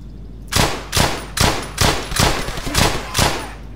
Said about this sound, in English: Now we're gonna see an MG.